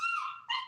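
A dog gives a short high-pitched whimper, two quick whining tones close together, brief and clear.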